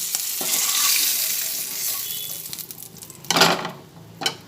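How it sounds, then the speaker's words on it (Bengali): Eggs frying in oil in a wok for an Afghani egg curry, giving a steady broadband sizzle with a few stirring scrapes and a louder burst of spatter near the end, close and without talk. "অল্প করে ভেজে নিয়ে তুলে নেব ডিমগুলো কিছুটা ভাজা হয়ে গেছে"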